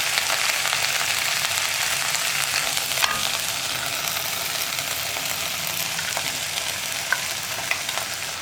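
Drumstick leaves and dal fry with a ground coconut paste while being stirred, producing a dense, continuous crackling sizzle at close range with a few sharp utensil taps.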